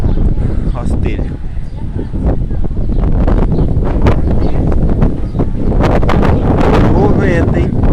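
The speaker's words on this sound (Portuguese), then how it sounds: "Esse vento chegou dando risada em 100 km por hora." Strong storm wind gusting at around 100 km/h in Terenos, MS, roaring loud and continuous with buffeting bursts against the microphone, while a voice talks over it.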